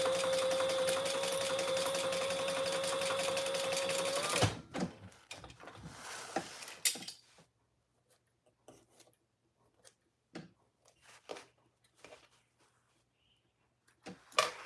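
A sewing machine stitching a trifold wallet with a half-inch seam allowance, running in one steady continuous whir for several seconds, then stopping, followed by scattered handling clicks and rustles of the fabric.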